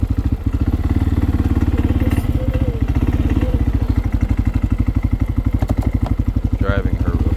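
A 2025 CFMOTO CFORCE 600 ATV engine runs steadily up close with a loud, even thumping pulse, a brief rev change near the end and a voice talking faintly over it.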